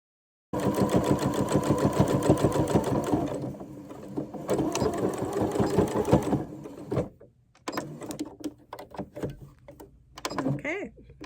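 A sewing machine stitches a tee shirt neckline seam in rapid rhythmic bursts, running steadily, then slowing with stops and restarts, close and loud, with a voice speaking near the end.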